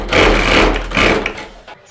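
A domestic sewing machine runs steadily while stitching long basting stitches, its loud, even mechanical whir pausing briefly once before ending with a short final burst.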